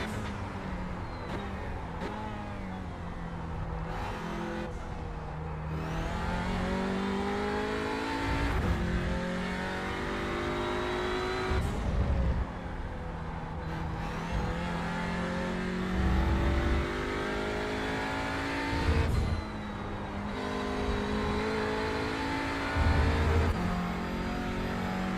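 An Audi RS3 LMS TCR races a hot lap at Laguna Seca in the iRacing sim, its engine steadily climbing and dropping through gear changes with brief tire squeal, continuous and close, with no talking.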